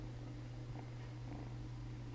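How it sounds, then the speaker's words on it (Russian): A cat purrs close and steady, a low continuous rumbling drone that runs unbroken throughout at a soft level with no talk. "Да, кошка."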